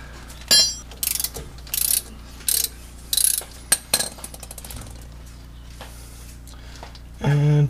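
Metal wrench ratcheting and clanking in short bursts while loosening a stuck bolt on a 1930 Ford Model A, a sharper burst near the end, with voices faintly present.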